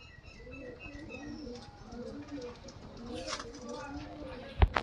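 Female Kaldam flying pigeon cooing in soft, repeated low coos over a steady background, with a brief sharp flutter or clap near the end; a person talks alongside.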